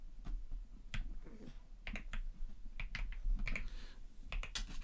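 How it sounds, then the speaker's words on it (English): Typing on a computer keyboard, a series of crisp key clicks in irregular bursts, fairly close and alone with no talk. "I'm typing Canon EOS R5 Mark II."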